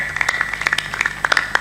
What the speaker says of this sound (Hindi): ये ताली बजा दो इस भक्त को